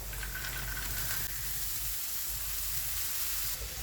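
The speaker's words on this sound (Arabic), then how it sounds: "هقلب الفريك مع البصله" Freekeh and onion frying in a pan as they are stirred, giving a steady bright sizzling hiss with a low rumble underneath throughout.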